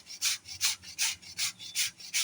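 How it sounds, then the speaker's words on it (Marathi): A block of jaggery grated by hand for chapati ladoo, giving eight steady rhythmic rasping strokes, close and fairly quiet with no talk. "गुळ किसत आहे, सॉरी."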